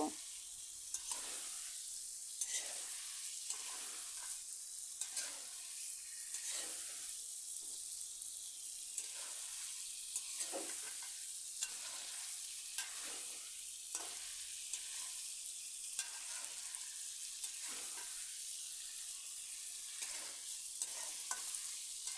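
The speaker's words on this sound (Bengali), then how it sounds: "এবার আমি বেজে রাখা আলু ফুলকপিগুলো দিয়ে দিচ্ছি এবারে মশলার সাথে ভালো করে মিশিয়ে নেব" Fried potato and cauliflower are stirred into spiced masala in a hot pan for a fish curry, giving a steady loud sizzle with repeated scraping stirs throughout and almost no talking.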